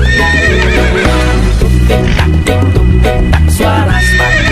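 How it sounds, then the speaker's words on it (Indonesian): Horse hooves clip-clop at a steady trot for a horse-drawn cart, with a horse whinnying, all set within a loud, full music track. "Suara sepatu kuda"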